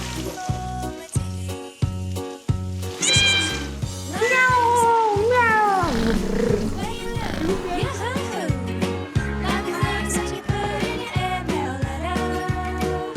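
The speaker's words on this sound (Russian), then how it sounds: "Существует легенда о том, что Бог создал ванскую кошку, чтобы она защитила Ноев ковчег от мыши" A Turkish Van cat meows repeatedly and drawn-out near Mount Ararat in Turkey, the cries rising and falling over music with a steady beat, while a voice talks along.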